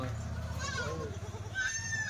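Kathiawadi goats bleat at a livestock market, with a couple of short, wavering bleats rising over a low crowd murmur and nearby talk.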